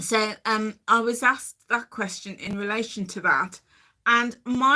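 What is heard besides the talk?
None of the usual background noises is heard.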